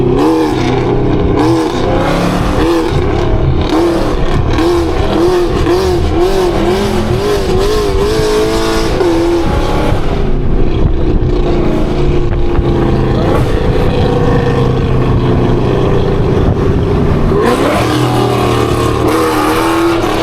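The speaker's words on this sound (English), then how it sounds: "P's car is actually like insanely loud" Dodge Hellcat engine revving loud and close, a continuous heavy rumble that rises and falls through repeated throttle blips and sustained acceleration, with brief wind and road roar between pulls.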